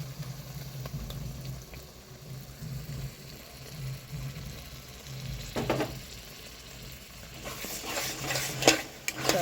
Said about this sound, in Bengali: তাড়াতাড়ি করে ভালো করে মিশিয়ে দিই।